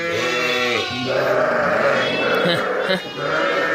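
Close, loud bleating of Kangal sheep, several wavering calls overlapping one another, with some rustling and animal noise around them.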